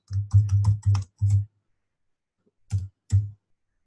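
Bursts of keyboard typing on a computer during software training, several quick clicky key clusters up close, then a pause and two short final taps.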